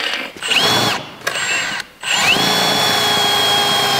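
A power drill revs in short bursts, then winds up into one long steady whine, loud and close, with no talking.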